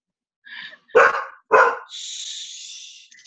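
A large golden retriever and husky mix barks three times in a quick close sequence, the barks rising into a drawn-out high whine or yelp at the end.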